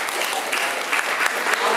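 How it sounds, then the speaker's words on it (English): Audience applause at a comedy show, a dense steady wash of clapping from a crowd that fills the whole stretch at a consistent loud level. "Ladies and gentlemen, a big round of applause for Avieta."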